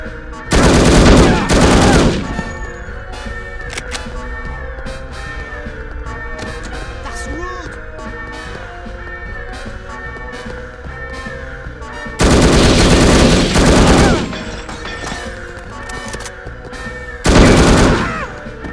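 Automatic gunfire in the video game No One Lives Forever: three loud, sustained bursts, one near the start, one in the middle and one near the end, with quieter game sounds and music running between them.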